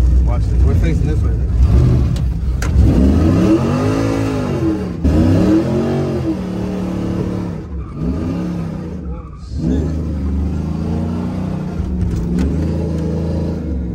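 A car engine on a street revs hard and accelerates in repeated rising and falling sweeps, loud and close, with brief tire squeals and gaps between pulls.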